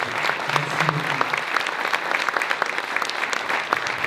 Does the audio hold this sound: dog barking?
no